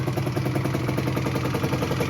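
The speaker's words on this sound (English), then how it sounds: "we got this thing idling right here behind me" A 1997 Yamaha Banshee engine idles steadily with a fast, even two-stroke burble and slight clatter, continuous and close, idle set a little high, with no talk over it.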